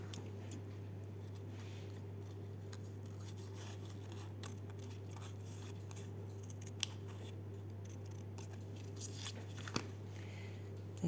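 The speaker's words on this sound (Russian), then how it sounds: "я тут вырезаю пока портными ножничками" Tailor's scissors snip out small paper flowers in a steady run of close, quiet cuts over a constant low hum, with a couple of sharper clicks along the way.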